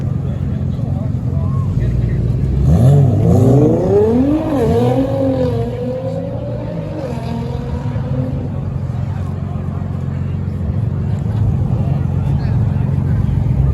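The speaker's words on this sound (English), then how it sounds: "we got R33 leaving here" A Nissan Skyline R33 pulls away from a cars and coffee meet, its engine revving and rising in pitch before fading into the steady crowd noise.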